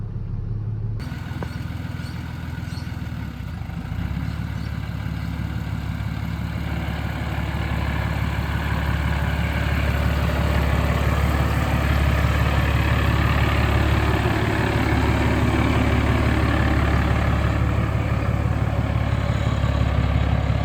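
A Nissan TD42 diesel engine in a ute with an external wastegate idles while creeping slowly along, a loud, steady low rumble held throughout with no talk.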